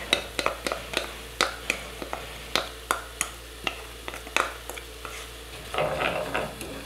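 Ají panca sauce sizzling in a pan while a utensil stirs it, making a regular series of sharp scraping clicks over a steady low frying hiss, close and moderately loud.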